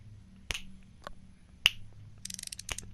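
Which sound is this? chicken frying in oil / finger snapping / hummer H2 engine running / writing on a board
finger snapping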